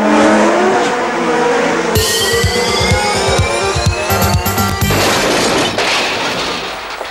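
A buggy's engine revs and drives past loudly for several seconds, with rough pulsing growl and rising whine over a broadband roar, no talking.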